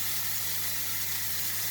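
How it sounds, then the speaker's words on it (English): Steady, broadband sizzling hiss of a beef burger patty frying in a hot pan, continuous and close, with a low constant hum underneath and no talking. "That's the kind of sizzle I want."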